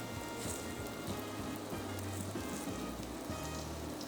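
Pork pieces frying in a single layer in a pan, giving a steady, dense sizzle with crackling pops throughout, close and continuous with no talking.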